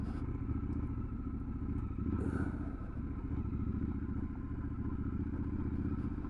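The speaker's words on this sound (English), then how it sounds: "there's the bit of off-roading on the 1200 Scrambler" A Triumph Scrambler 1200 XE motorcycle rides a bumpy, dry off-road track, its engine droning steadily and close with rattling clatter and thumps from the rough ground, and a brief higher scrape midway.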